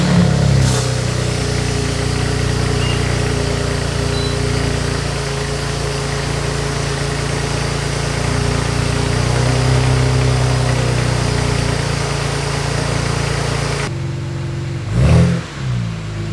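A G80 BMW M3 engine idles loudly and steadily at a high cold-start rumble, then cuts out near the end, followed by a brief mechanical thump.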